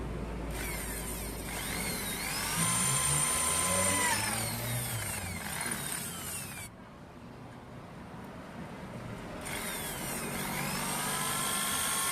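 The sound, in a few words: drilling holes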